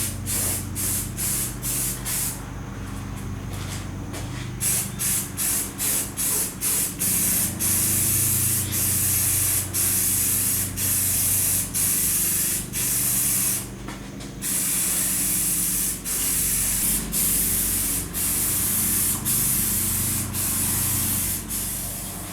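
Spray gun laying a thin coat onto a 1972 Honda CB450 café racer part, steady close hiss with brief pauses and rapid on-off bursts between passes, no talking.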